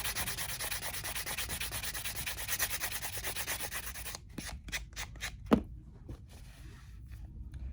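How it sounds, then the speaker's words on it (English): Steady hand sanding of an epoxy resin pen with a small sanding block, a continuous close scratchy rubbing that stops partway, leaving a few brief scrapes and knocks. "This is just a kind, a little sander block that my husband gave me."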